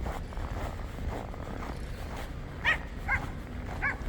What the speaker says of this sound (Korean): 반가움에 꼬리를 흔들며 짖는 강아지들.